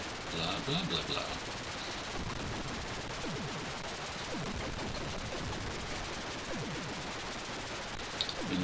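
Rapid, continuous firing in the Atari 8-bit shooter Warhawk, a fast stream of small repeated electronic shots laid over a steady noisy background, with speech occasionally present.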